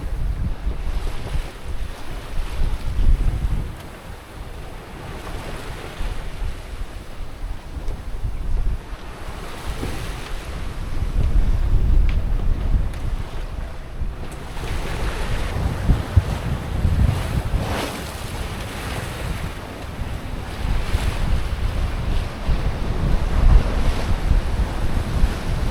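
Steady wind rushing past the microphone with the wash and slap of waves against a sailboat's hull, a continuous roar that swells and eases, sailing in Greece's Dodecanese with two reefs in the mainsail and genoa.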